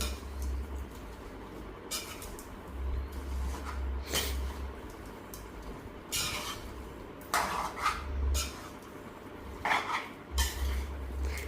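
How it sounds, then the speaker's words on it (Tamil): Beef curry is stirred in a pot after oil is added, with metal utensils clanking and scraping against the pot in irregular close bursts over a low background hum. "எண்ணெய் ஊற்றின பிறகு நாங்கள் எல்லாம் மிக்ஸ் பண்ணணுமே கவனம் சட்டி விழா போகுது"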